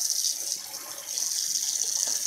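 Water is poured over boiled radishes in a home kitchen, making a soft, continuous hissing trickle like a running tap, fairly quiet and with no talking.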